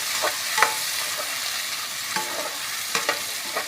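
A spatula scrapes and stirs through tomatoes in a hot pan, with a constant sizzle beneath the repeated strokes.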